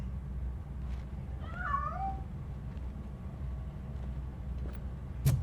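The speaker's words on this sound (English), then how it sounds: "That cat must be hiding inside." One drawn-out, wavering cat meow in the video game RoboCop: Rogue City sounds over a steady low background hum, with no voices.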